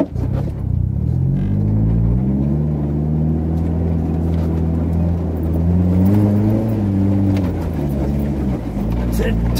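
A 4x4 engine revs steadily and loudly while the vehicle climbs the F trail at the Gama off-road park, its low rumble rising and falling in pitch throughout. A voice speaks briefly over it.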